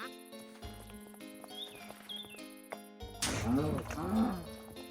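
A cow moos twice in a game scene, low drawn-out calls over electronic background tones and soft effects.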